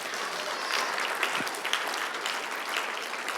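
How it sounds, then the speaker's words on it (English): Steady applause from the audience at a Montana State Athletics Hall of Fame induction ceremony dinner, a dense, even patter of many hands clapping throughout with no voices above it. "A round of applause for them."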